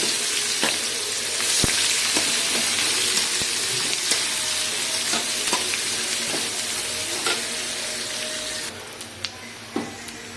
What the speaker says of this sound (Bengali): তো এখানে পেঁয়াজগুলো দিয়ে দিচ্ছি